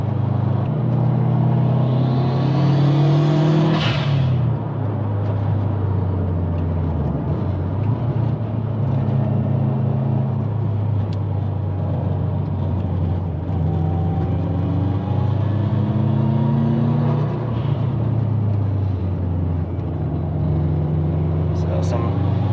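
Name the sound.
400hp Subaru WRX driving through mountain twisties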